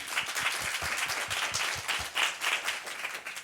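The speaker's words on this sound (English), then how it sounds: "So a round of applause." Audience applause after talks at a live marketing lunch session, steady dense clapping from a room of listeners, fairly loud and continuous throughout.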